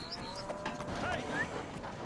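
Cattle on a farm moo at a moderate distance, a few drawn-out bawls rising over open outdoor background noise.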